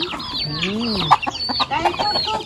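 Chickens cluck and chatter up close while being fed on a hot day, a busy run of short squawks and warbling calls with a brief louder cry near the middle, under a child's and adult's talk.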